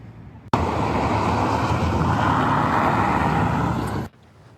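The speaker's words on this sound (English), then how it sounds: "roll down your windows so you can hear approaching traffic" Car traffic approaches on a road in thick fog, a steady broad roar of tyres and engine that swells in abruptly, holds loud and near for several seconds, then drops away.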